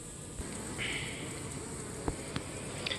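Honey bees buzz faintly around beehives in a steady insect drone outdoors, with a few light knocks and clicks in the background.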